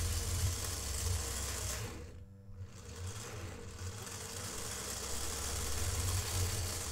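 A 3D printed 256:1 gear reduction running, a steady fast whirring buzz like a small motor, close and even, with a brief dip in the middle before resuming.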